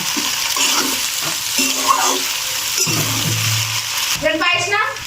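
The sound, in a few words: stirring fried egg into chicken pasta in a pan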